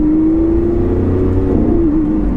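A loud, deep Lamborghini Aventador V12 engine drones with a steady, throaty exhaust note, rising slightly in pitch as it revs, close and continuous.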